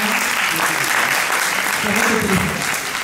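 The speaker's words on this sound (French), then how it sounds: "On peut l'applaudir dans cette vidéo." Loud, sustained applause from a crowd, continuous clapping throughout with a murmur of voices underneath.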